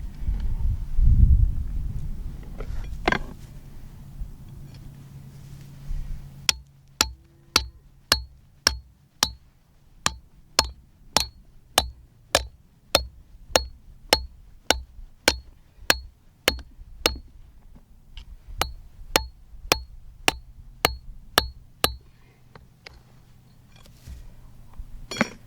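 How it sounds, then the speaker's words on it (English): Sharp metallic hammer blows drive steel trap stakes deep into the ground at a coyote trap set outdoors, about two dozen crisp, evenly paced strikes ringing out close by after a brief low rustle. "Hammer them out nice and deep so I got room for all this right here to go in there."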